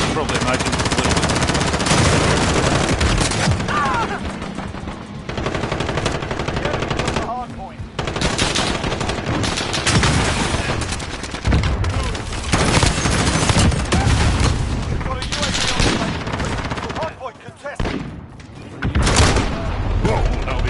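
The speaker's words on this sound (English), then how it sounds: "that'll be a shotgun to the face then" Dense gunfire and shotgun blasts from the video game Call of Duty: Modern Warfare, with continuous loud bursts and booms that fill the stretch and rarely pause.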